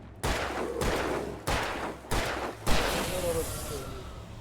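Four loud, separate gunshots spaced about half a second apart in Alan Wake, each with a ringing tail, the last one heaviest, followed by a fading echo.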